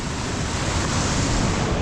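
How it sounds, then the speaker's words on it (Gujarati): Floodwater rushes through Junagadh during heavy monsoon rain, a loud, unbroken roar of churning water that fills the short stretch with no pauses and no voices. "તમે જોઈ શકો છો કેવું પાણી જાય છે"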